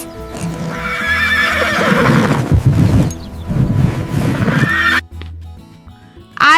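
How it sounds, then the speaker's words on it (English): A horse neighs loudly in a long, wavering whinny, followed by clip-clop hoofbeats and a second shorter whinny, all close and clear with no talking. "H for horse."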